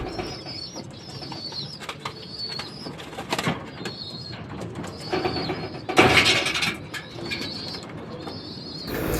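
Racing pigeons arriving at a loft during a training flight in Pozzorubio, Pangasinan, with repeated soft cooing, a few bursts of wing flapping and birdsong in the background, fairly close and steady.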